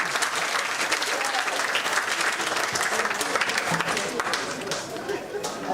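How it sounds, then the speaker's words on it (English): Audience applause at a ceremony handing over 18 housing units in the Kalinago Territory: dense, sustained clapping from a crowd with faint chatter underneath, easing slightly toward the end. "Let's give them a round of applause."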